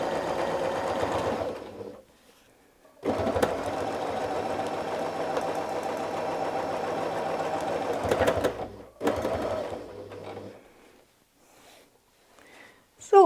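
A sewing machine runs in long, steady bursts for free-motion quilting of a dahlia motif against a ruler, with short pauses between runs and a close, loud mechanical whir.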